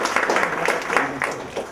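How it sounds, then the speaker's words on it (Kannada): Audience applause welcoming a guest to the stage at a Yakshagana cultural event, steady clapping from a crowd throughout a short burst. "ಚಪ್ಪಾಳೆಯ ಮೂಲಕ ಮತ್ತೊಮ್ಮೆ ಅವರನ್ನು ಸ್ವಾಗತಿಸೋಣ"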